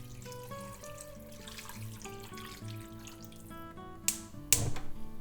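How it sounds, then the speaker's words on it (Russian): Tap water runs steadily into a 3-litre cooking pot being filled to the brim for soup broth, a continuous close pour with a couple of sharp clanks near the end. "3-литровую кастрюлю заливаю доверху водой"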